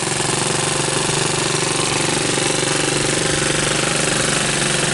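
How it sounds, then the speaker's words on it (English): A Honda ATC three-wheeler's 200M motor idles on a bench, a loud, steady, fast-pulsing small-engine putter that carries on without a break. "A lot of times once the motor breaks in a little bit, the idle comes up."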